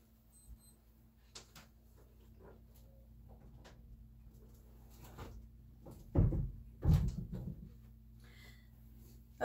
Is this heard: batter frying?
no